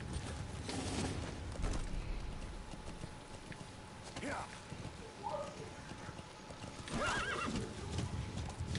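A horse in the Metal Gear Solid V game whinnies several times over steady clip-clopping hooves, with rain-like ambience and people talking underneath.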